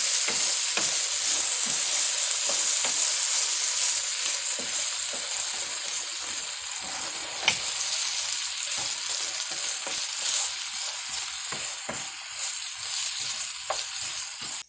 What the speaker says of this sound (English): if you just have regular peas or regular celery, you just add it right in now to the frying pan